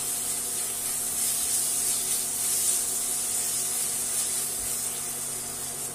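Tomatoes frying with salt in a pan for a radish-leaf dish, a steady close broadband sizzle that holds evenly throughout, with no talking.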